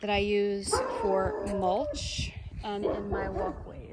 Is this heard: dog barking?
yes